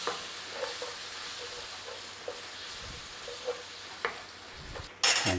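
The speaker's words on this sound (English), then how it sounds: "We're going to give that a little whiz in with the onions." Tomato paste and onions fry in a pan for a sausage and mash pie, giving a soft, steady sizzle broken by a few light stirring scrapes, with a louder burst right at the end.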